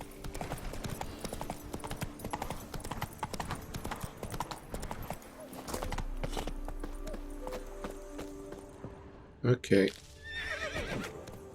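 Hooves of the horse Roach clip-clop steadily in The Witcher 3, with a loud neigh breaking out near the end; someone talks briefly over the galloping.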